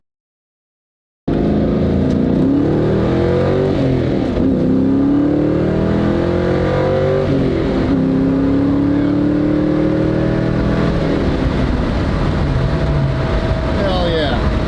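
A 2000 Mustang GT with a rebuilt 8.8 rear end and new suspension accelerates loudly from close range on a test drive. The engine rises through repeated gear pulls with rising and falling tones, then settles into cruising.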